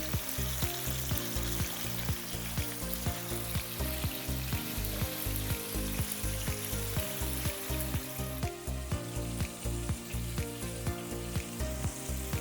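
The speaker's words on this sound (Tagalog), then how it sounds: "hanguin na natin yung last batch ng piniprito nating isda" Fish slices frying in hot oil, a loud, steady sizzle and crackle that carries on throughout with no talking.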